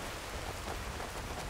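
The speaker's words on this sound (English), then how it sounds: "I'm quite happy that we've got the first rain for since winter" A brief, faint patter of rain falls in Skyrim, a soft steady hiss of drops without thunder or voices.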